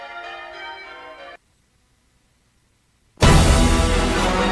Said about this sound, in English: You're listening to the National 12 Bell Striking Contest Final with Matthew Tosh.